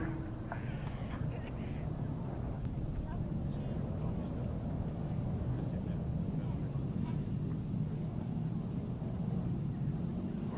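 Grasstrack racing sidecar outfits rev their engines at the start line of race 17, a steady loud mechanical drone filling the whole stretch under faint commentary.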